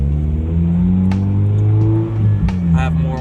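A Honda Integra Type R with a stripped-out interior fires up and settles into a steady, loud idle, its low engine drone dominant and a couple of brief clicks or knocks over the hum.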